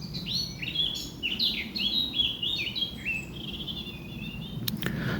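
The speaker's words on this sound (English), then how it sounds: "blackcap always throws in those whistled notes towards the end" A blackcap delivers a rapid, high warbling song of tumbling notes ending in clearer whistled phrases, moderately close over a low outdoor rumble of background noise.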